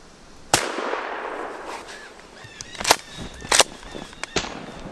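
A rifle fired while rabbit hunting outdoors in the woods, a sharp loud crack followed by several shorter, fainter snaps and rustles against quiet background ambience.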